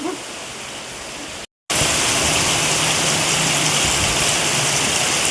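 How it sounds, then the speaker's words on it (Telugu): Heavy rain pours down in a dense, steady hiss, loud and continuous, briefly cut by a short silent gap before resuming even stronger. "ఫుల్ వర్షం"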